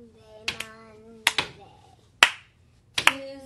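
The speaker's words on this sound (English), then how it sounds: "you clap when I clap" A child claps along to a days-of-the-week song, giving sharp, close hand claps mostly in quick pairs, four bursts spread over about three seconds, over a steady held voice or tone.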